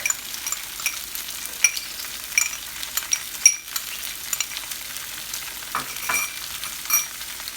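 Shrimp frying in a pan as garlic goes in, with mushrooms to follow, a close, continuous crackling sizzle broken by scattered clinks and scrapes of a utensil stirring, no one speaking.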